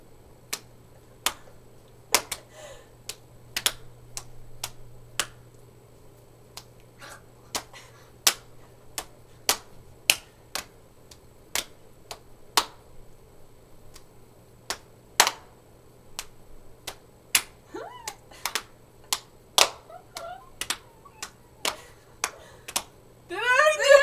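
Single sharp hand claps mark a counting game, spaced out across the span with short pauses between them, close and crisp against near silence, with faint voices near the end.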